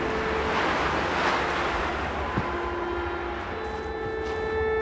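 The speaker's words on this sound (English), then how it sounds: "A gust of wind could take me away at any minute." Gust of wind in the video game Unravel: a steady, broad rushing whoosh that swells slightly and then eases, over a faint tonal background drone, with no talking.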